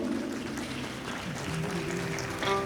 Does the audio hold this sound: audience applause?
yes